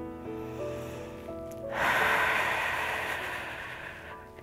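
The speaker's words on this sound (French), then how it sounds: "On relâche tous les muscles et on inspire et expire au maximum." A deep, slow breath during a relaxing hatha yoga session, heard as a long airy exhale rushing out close to the microphone over a soft sustained musical background.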